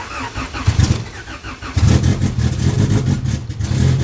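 A Honda Civic EK engine, built to about 700 hp and tuned on Q16 fuel but running on 93 octane, cranks and catches. It then revs in loud, rough bursts up close, with a heavy low rumble throughout and no talk.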